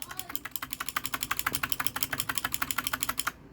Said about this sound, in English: it's a blue switch keyboard